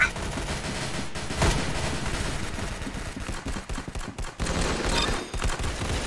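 Dense, continuous gunfire in Roblox Arsenal, rapid shots overlapping into a steady loud barrage with brief dips, close and busy.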